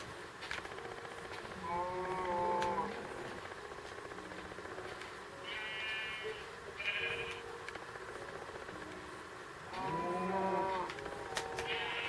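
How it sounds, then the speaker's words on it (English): Blocky cows in the Minecraft video game give several drawn-out moos at intervals, with bleating in between, fairly faint over a steady low background. "I'm gonna try to get this cow in here."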